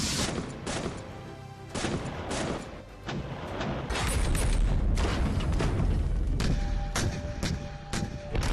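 Artillery and gunfire at a border during military exercises, heard as a dense run of loud booming blasts and sharp cracks, continuous and close, with heavy low rumble throughout and no talk.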